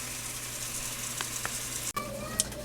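Deer meat for chili browns in a pot with a low, even sizzle, close and quiet, broken by a brief clunk and a couple of faint clicks.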